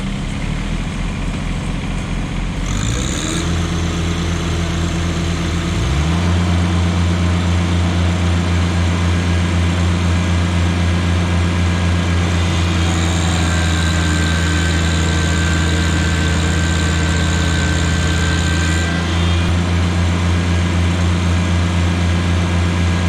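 A Kubota BX and a John Deere 1-Series compact tractor run in four-wheel-drive low range, their diesel engines droning steadily and loudly up close with a low hum and a whining tone that shifts and rises partway through.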